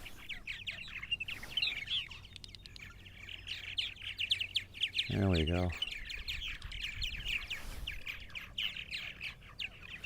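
Purple martins call on eastern Long Island in May, a steady chorus of chirps and twitters throughout, with someone speaking briefly and a short low rumble in the middle.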